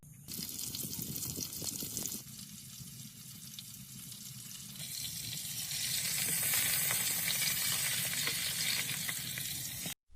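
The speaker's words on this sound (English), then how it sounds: "He sears it in a pan over the open flame, the sound sizzling through the quiet cave." Meat searing in a pan over an open flame inside a quiet cave shelter, a loud continuous sizzle and crackle that intensifies midway and holds steady, with no talk.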